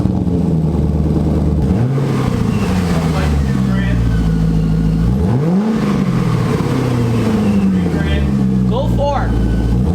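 A car fitted with Speed Engineering headers revs loudly and close by, its engine note rising and falling in repeated blips over a constant roar, with people talking over it.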